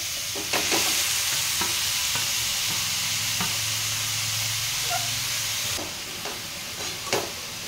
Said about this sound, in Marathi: आता याच तुपामध्ये आपण हे खिसून घेतलेलं दुधी भोपळा टाकून घ्यायचा आहे